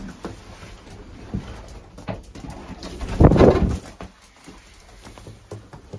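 Racing pigeons coo in a breeding loft, with soft repeated coos and a louder burst of cooing and wing rustle midway, set against faint loft clatter.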